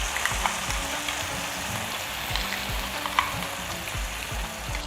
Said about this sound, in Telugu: ఆవాలు చిటపడలాడుతుంది